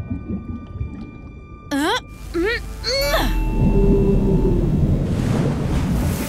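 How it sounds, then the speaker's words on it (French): An animated gray whale blows through its blowhole: a few whooping tonal calls, then a long, loud, rushing spray of air and water that fills the rest of the scene. "J'ai fait peur à une baleine grise et elle t'a soufflé par son évent!"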